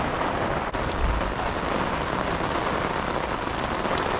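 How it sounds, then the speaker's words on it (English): Heavy rain mixed with hail pelts a campsite in a steady, dense roar, loud and close, with a single sharp tap near the start. "It started hailing now, so now there is a mixture of hail and shit weather"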